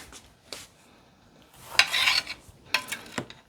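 Knife slicing mandarins on a cutting board for homemade mandarin jam, a few soft scraping cuts and taps, close and fairly quiet, with a longer rasping stroke in the middle and no talk.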